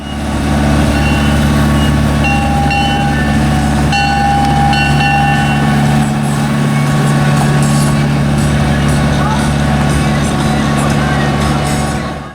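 Steam locomotive 2816 rumbles loudly as it departs an exhibit lot, with a heavy low drone, steady mechanical hum and sustained whistle-like tones over continuous noise.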